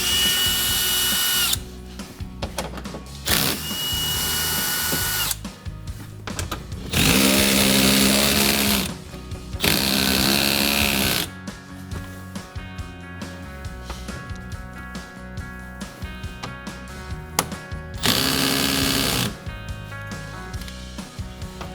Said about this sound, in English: we have a whole lot of bolts that we have to remove